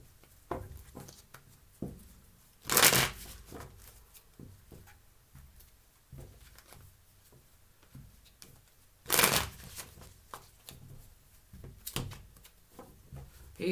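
Tarot cards are shuffled up close. Two loud riffling bursts stand out, with softer taps and handling of the deck in the quiet stretches between them.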